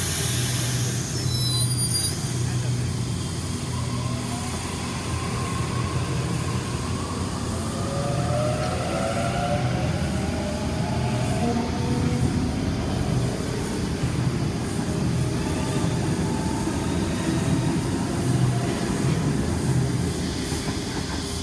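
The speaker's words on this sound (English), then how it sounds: "The train on platform 2 goes to Hornsby via Eastwood." A Sydney train pulls away from platform 2 at Rhodes station, bound for Hornsby via Eastwood, with a steady, loud rumble of wheels and motors and a rising whine that holds throughout with no talk.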